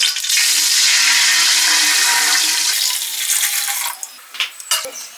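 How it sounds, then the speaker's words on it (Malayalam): A steady rush of about six cups of water poured into a cooking pot for several seconds, then tapering off into a few splashes and clinks. "ഇതിനകത്ത് ഒരു ആറ് കപ്പ് വെള്ളം എടുത്തിട്ട് നമ്മളിവിടെ വെച്ചിട്ടുണ്ട് ഇത് നമുക്ക് ഇതിനകത്തേക്ക് ഒഴിക്കാം"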